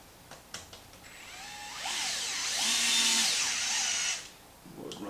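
A power driver running screws into a Traxxas Maxx front bulkhead, with a few short clicks followed by a rising motor whine that holds for about two seconds before stopping, close and fairly loud.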